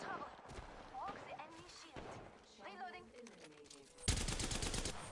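Gunfire in Apex Legends, a weapon firing in bursts under a player's talk, with a loud, dense volley of shots breaking out near the end.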